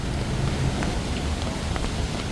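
Light drizzle after heavy rain on a Bangkok night street, a steady soft patter of raindrops with faint scattered drips, continuous and even, no voices.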